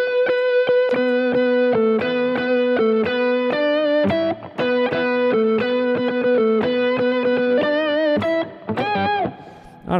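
An electric guitar through an octave effect pedal plays a rapid run of sustained, buzzy notes with a thick doubled tone beneath each one, loud and continuous, ending in a quick bend.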